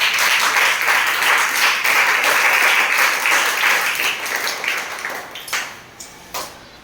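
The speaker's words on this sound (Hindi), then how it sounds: "तो आइए हम सब मिलकर के इस कक्षा की शुरुआत जोरदार तालियों के साथ" Loud applause from a class opening a lesson, with many hands clapping steadily and close, then tapering off into a few scattered final claps.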